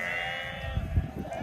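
A flock of sheep bleats in a short, faint burst, with a couple of low calls rising over soft background noise.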